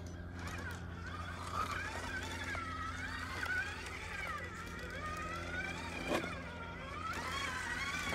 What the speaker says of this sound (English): Can almost hear this motor working a little more, even though it is geared up as well.